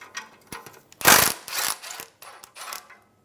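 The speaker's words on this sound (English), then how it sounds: "Remove the 14 millimeter bolt on the bracket." A ratchet works the 14 mm bracket bolt on a 2003-2008 Subaru Forester during catalytic converter replacement: quick clicking bursts close to the microphone, with one louder stretch of cranking in the middle and short pauses between pulls.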